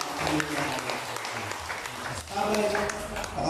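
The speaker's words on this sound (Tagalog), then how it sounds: "palakpak asa kayo na" A fellowship congregation claps in a brief burst of applause, a dense patter of many hands under someone speaking over a sound system.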